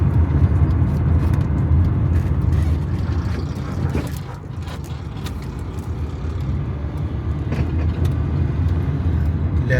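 Road traffic in Islamabad during road blockades for an SCO summit, a steady, loud rumble of passing cars, buses and trucks with engine drone throughout and a slight dip midway.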